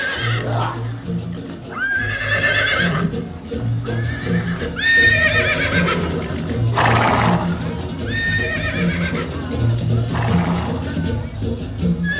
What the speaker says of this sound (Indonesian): Pada putaran ini, muncullah kuda Once Serawa. Kuda berwarna putih dengan 7 kepala